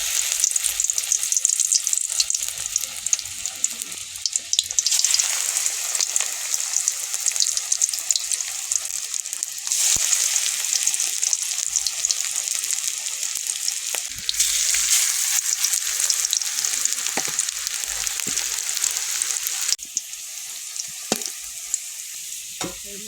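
Broccoli and egg chops frying in shallow oil over a wood fire, a loud, dense sizzle that surges and eases in waves with scattered crackles, no talking.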